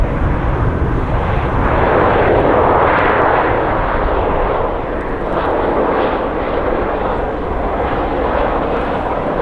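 A Southwest Airlines jet in the Louisiana One special livery at Columbus airport gives a loud, broad roaring rush of jet engine noise that swells and fades slightly, continuous and fairly close.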